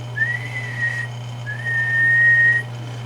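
Two sustained tones whistled into a radio microphone, driving a Demco Demon 250 reverse preamp on the bench, each held steady for about a second with a short pause between, over a constant low electrical hum.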